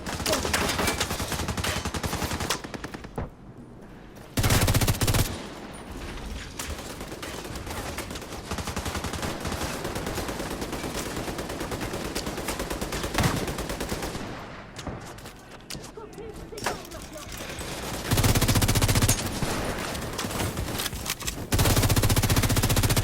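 Video game gunfire in a Los Angeles apocalypse setting, dense sustained bursts of automatic fire, loud and close, broken by a few short pauses and ending in heavy volleys.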